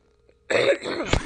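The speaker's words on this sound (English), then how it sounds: "I'm about to cough." A single short cough or throat-clearing burst, close and fairly loud, from a gamer sitting at the microphone.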